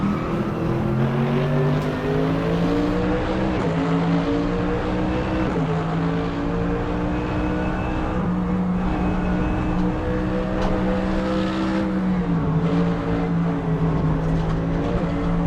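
A Lexus race car engine drones in a racing video game, a loud continuous tone that rises through the gears and dips briefly at each shift, with no voices over it.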